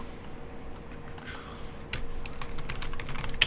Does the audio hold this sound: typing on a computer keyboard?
yes